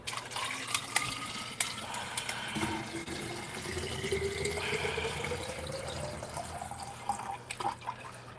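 Tap water runs and trickles into a 64-ounce bottle, the pitch of the filling rising steadily as the bottle fills, with a few clunks and drips around it, close and clear with no talking.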